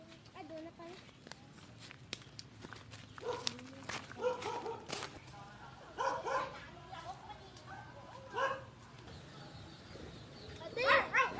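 Several dogs bark and yip in scattered bursts, some near and some farther off, mixed with footsteps and people talking throughout.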